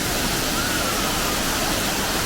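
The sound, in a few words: Adyar waterfall in Mangalore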